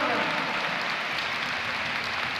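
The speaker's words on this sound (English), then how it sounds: "it's a deserved applause for the record breaker" Stadium crowd applauding as Francesco Totti is substituted during AS Roma versus Parma in Serie A, a broad, roaring wash of distant clapping and cheering, with a commentator's voice over it.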